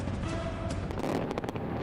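New Year's Eve fireworks over the Burj Khalifa in Dubai, a dense rumble of bursts with a few sharper cracks near the end, heard at a distance as a continuous booming roar.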